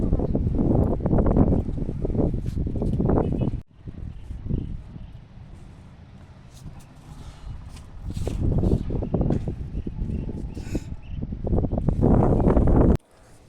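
Gusty outdoor wind buffets the microphone on a farm plot, rising and falling in loud rough bursts with a calmer lull in the middle, alongside rustling.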